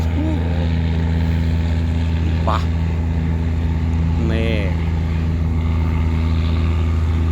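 A tugboat's engine drones with a steady low rumble throughout, constant and close, while someone speaks briefly over it.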